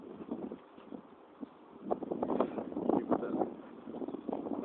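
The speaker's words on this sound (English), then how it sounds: "There's a lot of wind blowing, so please bear with the wind." Gusty wind buffets the microphone outdoors near water in Houston, a steady low rushing that swells louder in the second half, with no talk.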